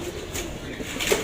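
Pigeons coo softly in a group, a low murmuring burble running continuously at close range with a slight flutter near the end.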